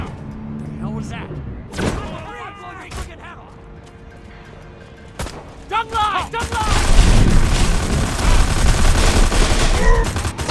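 Gunfire in Destroy All Humans! 2: Reprobed: scattered shots and mechanical clanks give way to loud, dense bursts of shooting in the second half, mixed with voices talking.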